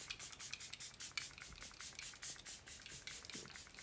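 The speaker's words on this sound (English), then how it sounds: "I'm going to use this Glow Recipe Watermelon Ultra Fine Mist" Glow Recipe Watermelon Ultra Fine Mist facial mist sprayed close up in a quick series of soft, faint hissing bursts, about a dozen short puffs in an uneven rhythm.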